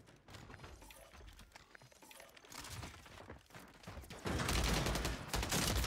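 Gunfire in Call of Duty Warzone 3 crackles in scattered bursts, distant at first, then loud and dense near the end.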